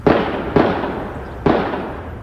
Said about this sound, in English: You can hear gunfire coming from the downtown Louisville branch of the old National Bank